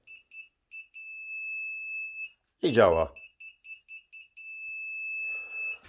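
Repeated electronic beeps from a car parking sensor on a Skoda Fabia sound in short bursts, then hold as a continuous tone, with a brief spoken phrase in the middle.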